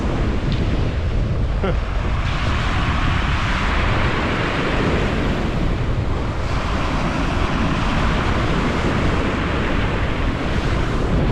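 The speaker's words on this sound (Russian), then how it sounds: "Так, надеюсь, сюда волна не достанет." Sea waves breaking on a rocky shore at Adler, Sochi, in January, a loud continuous roar of surf mixed with wind buffeting the microphone, with no clear breaks.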